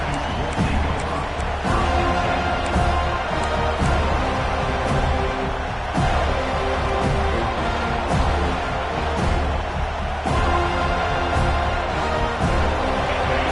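A college football stadium crowd during a TCU game roars in a sustained, loud wash of cheering and noise, with scattered claps and thumps throughout.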